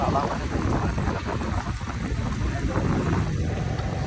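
A motorbike carries two riders along a road, its engine rumble blending with steady rushing wind noise throughout, close and fairly loud.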